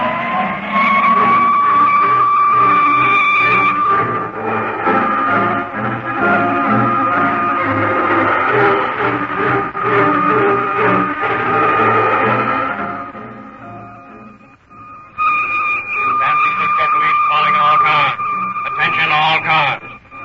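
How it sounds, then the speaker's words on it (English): A getaway car in a radio drama roars off, with a loud wailing siren rising and holding over the engine and skidding tires. Voices speak at times through the sustained siren, which briefly drops and then returns. "Kick that siren open and drive straight through the west gate."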